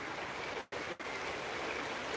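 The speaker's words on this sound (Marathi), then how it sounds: "अँड दिस इज गायधरा नदी गायधरा रिवर ऑफ मंजरी व्हिलेज" Gaidhara river flowing in flood near Manjari village in Beed district, Maharashtra, a dense continuous rushing wash of water, close and steady, briefly cut out twice.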